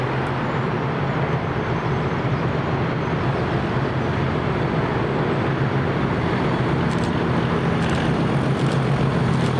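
Class 37 locomotive 37403 departs Dundee with a loud, continuous diesel rumble and a steady low drone, heard alone throughout.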